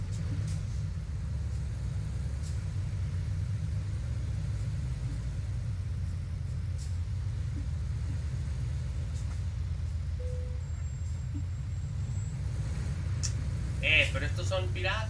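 A steady low engine rumble from road traffic in a truck driving game, heard from inside a Mercedes-Benz MP New G7 1800 DD truck, continues throughout at moderate volume, with a short beep or tone near the end.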